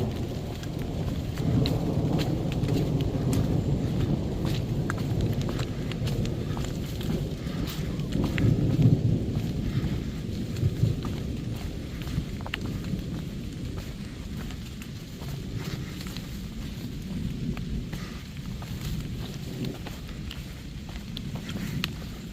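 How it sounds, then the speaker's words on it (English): Thunder from a passing thunderstorm rumbles low and long on the Appalachian Trail, a steady roar of rain hissing underneath with a few louder rolls midway, no voices. "Lightning cell that's passing us. It's rumbling"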